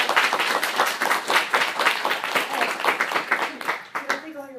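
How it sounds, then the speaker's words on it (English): A room full of people applauds in a steady, fairly loud burst of clapping that stops near the end, where a voice begins to speak. "Everybody give her a round of applause"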